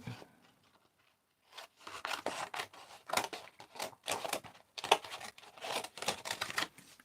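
Scissors cut through craft paper for making animal ears and tongues, a close, quiet series of crisp snipping and rustling strokes in an uneven rhythm after a brief near-silent pause.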